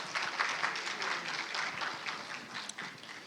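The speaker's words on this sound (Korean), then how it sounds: "큰 박수 부탁드리겠습니다." A conference audience applauds after a battery-industry presentation, a soft, somewhat distant patter of many hands that holds steady and then tapers slightly near the end.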